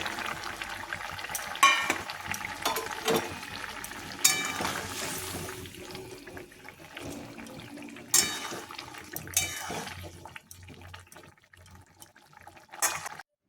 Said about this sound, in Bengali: ফুটছে এবার মাছগুলো দিয়ে দেবো